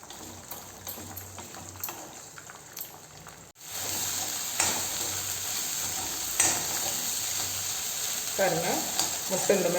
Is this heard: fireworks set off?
no